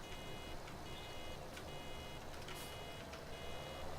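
A baler in the Farming Simulator video game sounds a repeated electronic warning beep in short regular bursts over a steady low engine drone, fairly faint in the mix.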